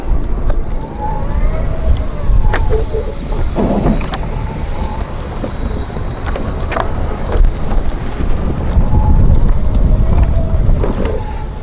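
A Pride Baja Raptor 2 four-wheel mobility scooter rolls through grass with a steady motor whine, accompanied by rustling, bumping and some wind buffeting on the microphone, loud and close throughout, with no voices.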